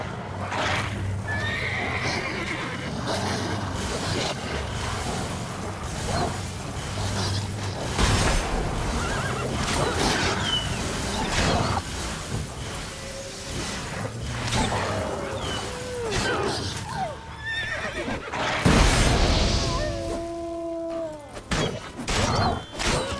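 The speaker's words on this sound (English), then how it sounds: "I scared my horse." Repeated horse whinnies and neighs with hoof clip-clops in the video game The Witcher 3, set against a busy background of rustling and clanking, louder bursts near the end.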